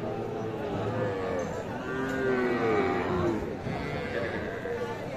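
At the Aftabganj livestock market, calves and young bulls moo in long drawn calls near the middle, over a busy crowd murmur, while people talk nearby.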